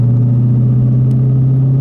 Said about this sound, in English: just a nice mechanical burbly V8 sound I think just about anyone can enjoy